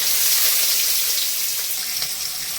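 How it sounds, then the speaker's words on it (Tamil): Finely chopped garlic and onion sauté in a pan with fennel seeds while paneer rice is being made. A steady, loud, close sizzle and hiss continues without a break, and no one talks. "இது கூடவே நம்ம பொடியாக கட் பண்ண பூண்டும் வெங்காயத்தையும் இதில் போட்டு வதக்கலாங்கம்மா"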